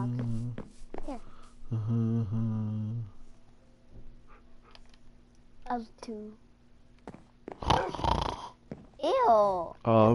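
A Minecraft dog on PS4 growls in low, repeated rumbles with whimpering rises, fairly close, mixed among other game sounds and louder bursts.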